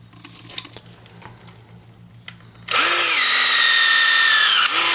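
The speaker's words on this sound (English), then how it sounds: "We're going to use one of our new ADP expanding peel rivets to demonstrate how it pulls multiple layers of material together." Rivet tool setting an ADP expanding peel rivet through multiple metal layers, a loud steady whirring burst starting midway after quiet handling noises, with a brief dip near the end.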